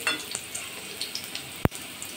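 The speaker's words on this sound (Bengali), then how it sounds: "নাড়াচাড়া করে কিন্তু উচ্ছেগুলো ভাজা করে নিয়েছি।" Bitter gourd slices fry in hot oil with a soft, steady sizzle, with a single sharp knock from stirring near the end.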